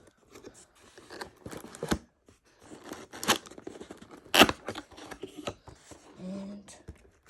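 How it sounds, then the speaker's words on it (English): A wired keyboard's package is opened up close, with scattered rustles, crinkles, snaps and tearing of cardboard and plastic, one sharp loud crack midway, and faint talk underneath. "I'm gonna open it up."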